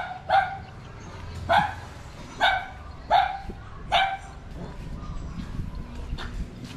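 Five sharp, evenly spaced barks come from a nearby dog beside a village embankment road in Bến Tre province, followed by a quieter stretch with faint background noise.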